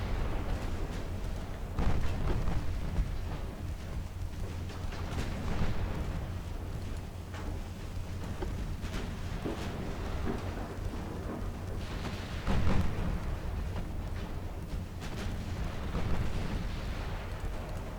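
Naval gunfire and shell hits in the warship game Ultimate Admiral Dreadnoughts, heard as a continuous rumbling barrage with heavier booms swelling at intervals, without talk.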